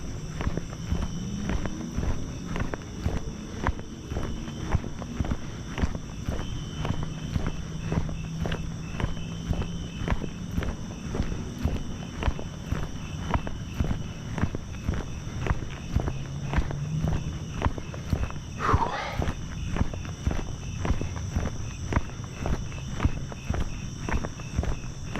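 Crickets chirp in a continuous high drone through a hot summer night walk, with steady rhythmic footsteps crunching close underneath throughout and no talking.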